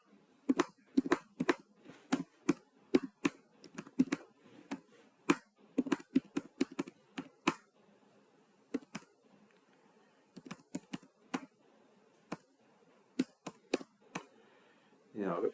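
Rapid keyboard typing as numbers are entered for a calculator statistics exercise, crisp close clicks in quick bursts with short pauses between runs, a brief voice heard faintly.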